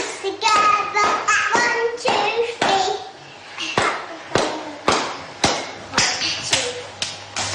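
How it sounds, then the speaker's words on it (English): Hands clap together in a quick, sharp rhythm, repeated bursts of crisp smacks, close and fairly loud, with a voice and singing-like sounds in between. "Clap your hands together"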